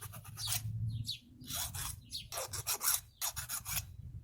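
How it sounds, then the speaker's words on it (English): A hand file rasps across the nub of a handmade amulet in repeated strokes, each pass a bright scraping burst separated by brief pauses, close and fairly quiet, with no talking. "Now we can grab the file again and work on the lower section of the nub."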